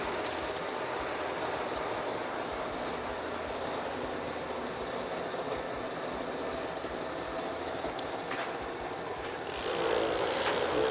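Junior drag racing cars run down the strip at an IHRA Summit Racing SuperSeries World Finals event, a steady broad engine roar heard from a distance that swells slightly near the end.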